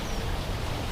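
Steady outdoor rainfall hissing evenly for the whole second, a dense broadband patter with no distinct drops standing out and no voices.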